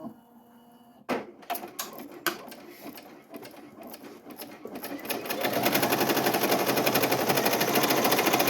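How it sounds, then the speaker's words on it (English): An embroidery machine stitches a design onto a hoodie, starting with a few sharp clacks before settling into a loud, steady, rapid mechanical chatter of the needle running continuously and close up. "So now what we're gonna do is start to embroider."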